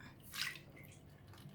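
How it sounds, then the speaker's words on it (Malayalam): Tamarind water is poured into a pan of ginger and curry leaves for puliyinji, a short, soft liquid splash that rises and settles within half a second and is followed by faint background hiss. "ഇനി നമുക്കിതിലേക്ക് പുളിവെള്ളം ഒഴിക്കാം"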